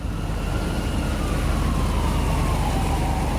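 An ambulance siren wails on a storm-lashed road in Central Florida during Hurricane Milton, a sweeping tone rising and falling over heavy constant rumble of wind, rain and traffic.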